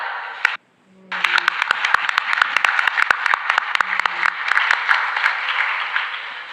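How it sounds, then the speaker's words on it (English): An audience at an international chartered accountancy student conference applauds to welcome a speaker from Nepal, starting after a brief pause, with crisp scattered claps building into sustained clapping alongside a few faint tones. "in your huge round of applause, please help me welcome Mr. Prateek Gilal"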